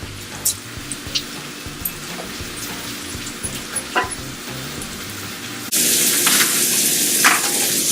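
Bacon-wrapped shrimp frying in a pan give a steady sizzle, with scattered clicks and small pops throughout and a louder, brighter crackle in the last two seconds.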